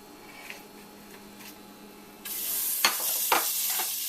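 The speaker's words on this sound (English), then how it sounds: "I'm going to start it with 1 tablespoon of butter" A tablespoon of softened butter hits a hot pan, faint clatter at first, then a sudden, steady bright sizzle that starts midway and continues with a few small crackling bursts.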